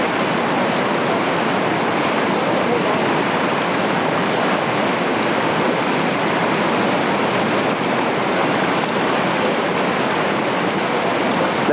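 Rushing whitewater of the Ocoee River roars loud and constant from start to finish, a dense unbroken wash of noise with no voices.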